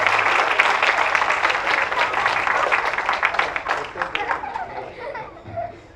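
Audience at a church community awards gathering applauding, a dense wash of clapping over several seconds that thins out toward the end, mixed with light laughter and chatter in the room.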